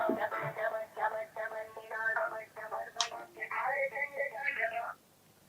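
A telephone call rings out in repeated regular bursts of electronic tone, fairly clear and close, stopping abruptly near the end.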